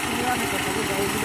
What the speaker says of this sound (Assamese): এই ট্ৰেক্টৰ এইজনে হাল বাই আছে ৰোৱা হাল বাই আছে